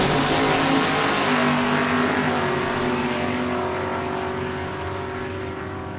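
Drag race cars roar down the strip at Saskatchewan International Raceway during a heads-up race. The engine noise is loud and sustained and fades gradually as the cars pull away.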